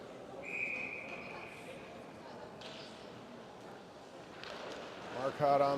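A referee's whistle calls icing at a 16U versus 18U youth ice hockey game in an arena, one steady mid-length blast early on. Crowd and rink noise continue throughout, with a commentator talking over it.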